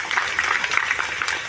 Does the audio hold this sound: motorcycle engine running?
no